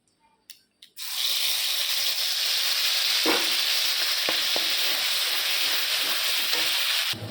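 A ginger, cumin and garlic spice paste hits a hot frying pan after a few brief knocks, bursting into a loud, sustained sizzle that holds steady with occasional stirring clicks before stopping abruptly.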